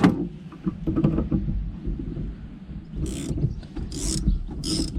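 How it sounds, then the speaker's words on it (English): A ratchet loosens the negative battery terminal on a 2000–2007 Volvo V70, giving close mechanical clicking with a few sharp bursts of ratcheting near the end. "make sure you get your ratchet set to lefty loose"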